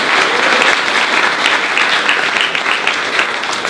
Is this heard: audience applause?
yes